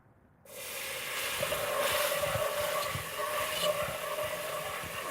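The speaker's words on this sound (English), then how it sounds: "I'm going to pour about 1 cup of the gravy, the pan drippings that I warmed up." Warmed gravy pan drippings are poured into a hot pan, starting abruptly with a close sizzling hiss. The hiss stays steady and fairly quiet for several seconds, swelling slightly as the liquid spreads.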